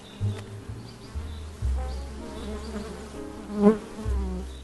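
Honey bees buzz steadily at close range around a Flow hive, with a few louder passes as individual bees fly near, and no talking.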